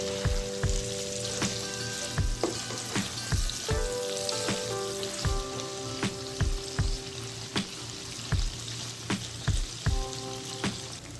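Tofu fries in a pan with a bright, continuous sizzle, punctuated by regular sharp clacks and scrapes of a utensil turning the pieces, under a faint steady hum.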